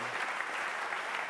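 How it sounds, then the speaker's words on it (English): Audience at a game expo applauding a game screenshot reveal, a dense burst of clapping from a crowd, loud and sustained for the whole moment. "Go on, a round of applause, please."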